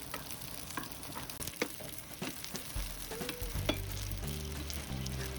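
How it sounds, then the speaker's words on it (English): Green onion whites and garlic sauté in hot oil over medium heat, a close, bright sizzle with scattered pops and stirring scrapes, no voices. "Toss in the green onion whites and garlic. Sauté for 10 seconds until it smells like heaven."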